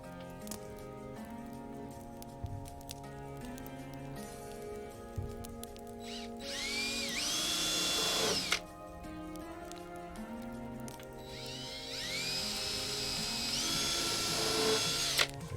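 A power drill whines in two bursts, pitch rising as it spins up, with clattering and handling noises between.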